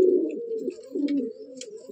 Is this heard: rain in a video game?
no